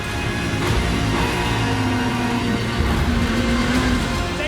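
A race car at the Zandvoort circuit accelerating hard with its rear tyres spinning, a loud continuous engine roar with a rising pitched whine across the whole stretch.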